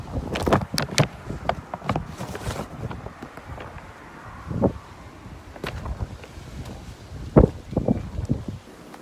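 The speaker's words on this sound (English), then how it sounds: "it's getting a little windy outside" Gusty wind outdoors buffets the microphone in irregular loud bursts over a constant rushing background, with no talking.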